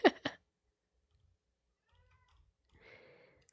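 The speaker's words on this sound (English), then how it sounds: "What is meowing?" A house cat gives two sharp, loud meows up close, then quiet, followed by a fainter drawn-out meow toward the end.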